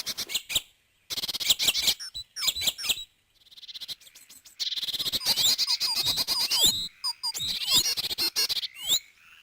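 Great tits, blue tits, chaffinches and a greenfinch singing and calling while feeding among leaves, with bursts of bright chirps and trills broken by short pauses, close and clear.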